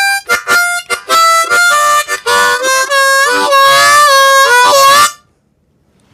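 Slow blues harmonica lick in second position, a run of sustained, bending reedy notes with short breaks between phrases, played close and loud for about five seconds and then left to silence.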